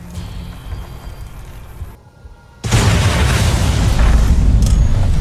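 Plasma mines going off in Fallout: New Vegas inside Caesar's tent, a sudden loud burst that swells into a dense, roaring wash of blast noise after a brief hush, sustained and close.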